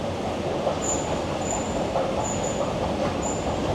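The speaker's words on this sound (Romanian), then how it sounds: "metroul din Madrid." Madrid metro train rumbling steadily with a dense, continuous roar, faint intermittent high wheel squeals recurring over the noise, no voices.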